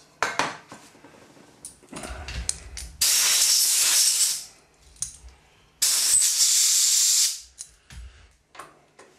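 Brake cleaner hisses out of an aerosol can in two long, loud bursts, washing cutting oil off a machined steel part. Metallic clinks and taps of the workpiece come before and between the sprays.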